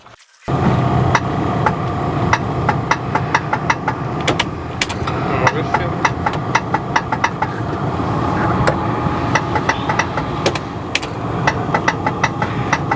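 A Rolls-Royce car's engine being cranked on a start attempt, the starter churning steadily with repeated sharp clicking knocks over a continuous mechanical drone, close and loud.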